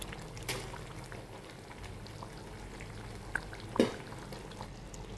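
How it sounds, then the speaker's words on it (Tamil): Paneer and peas masala simmering in a pan, a soft steady bubbling with faint pops and one or two brief louder clinks, no talking. "ஒரு கொதி வரட்டும்."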